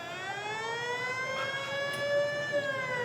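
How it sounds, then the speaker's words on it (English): An old-style fire engine siren from the Meaford Fire Department wails steadily at a Santa Claus parade, its rich harmonic tone holding a sustained, slightly wavering pitch, fairly clear over faint background noise. "And that's the old style siren too."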